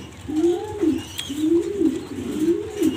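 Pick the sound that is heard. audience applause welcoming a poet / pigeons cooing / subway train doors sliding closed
pigeons cooing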